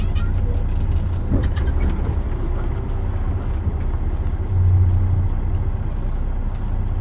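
Low, steady diesel engine rumble from a truck slowly backing a trailer straight toward a wall, loud and continuous, with a short swell partway through and faint clatter near the start.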